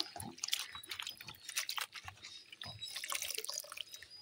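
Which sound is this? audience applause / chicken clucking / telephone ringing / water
water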